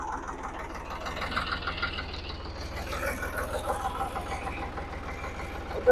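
A Farmtrac 55 tractor with a modified pump runs with a continuous low rhythmic engine rumble, fairly quiet and steady, with no talk over it.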